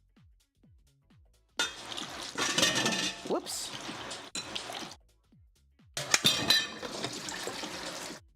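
Cooked noodles for cold sour noodles get rinsed under running water in a kitchen sink, two loud splashing bursts of tap water with quiet pauses between, and a brief spoken exclamation.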